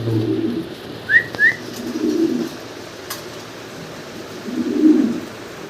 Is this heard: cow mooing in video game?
no